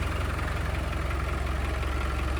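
A 1998 Land Rover Defender 90 with a 300TDI diesel engine idles inside a closed building, giving a steady, loud, rumbling chug that stays even throughout with no voices.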